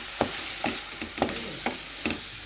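Broccoli fry is stirred in a pan over a low sizzle, with five or six evenly spaced scraping strokes of the spoon, close and clear, no voices.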